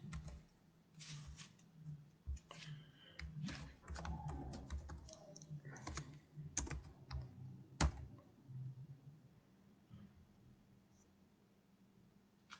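Rapid clattering keystrokes on a computer keyboard, close and fairly quiet, in uneven bursts with a few sharper clicks, tapering off into near silence.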